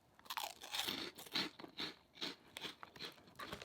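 Someone bites and chews a crunchy, cheese-flavoured, salty and spicy Jamaican snack close to the microphone, with a quick run of loud, crisp crunches in an uneven rhythm and no talking.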